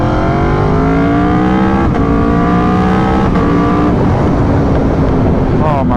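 A 2022 Aprilia RSV4 1100 Factory sportbike's engine revs hard while being ridden, loud and close, with rising gear-by-gear sweeps, shifts between them and a brief drop as the throttle eases near the end.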